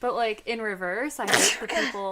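A sneeze bursts out partway through, sudden and noisy, landing in the middle of steady conversation and partly masked by the talking voices around it.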